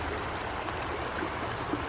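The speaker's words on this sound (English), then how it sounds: "I love the water, the noise and stuff." Flowing water rushes steadily and evenly, close by and unbroken, with no voices.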